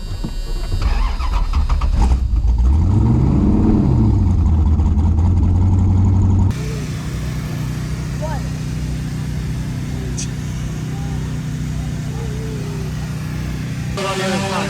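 A car engine on a street test in Ohio, revving up and down and then holding a steady high idle, with people talking over it close by.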